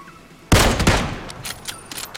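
A loud gunshot in PUBG cracks sharply and then rings out in a rolling, echoing tail with faint later pops.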